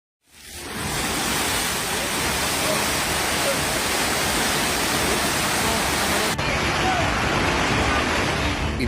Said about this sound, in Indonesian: Inilah detik-detik meluapnya air sungai di wilayah Kecamatan Liato, Kota Gorontalo yang menerjang permukiman warga